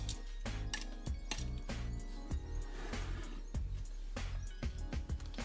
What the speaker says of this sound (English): So all we have to do is put the turkey